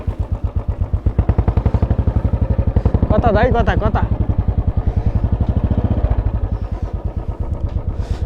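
A motorcycle engine runs at a steady, chugging idle close by, its rapid low thumping continuous throughout while a voice talks briefly over it.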